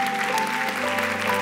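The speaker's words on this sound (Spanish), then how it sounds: "Un aplauso fuerte para esta dama." A church congregation applauds during a sermon, a short burst of steady clapping with a faint sustained tone beneath it.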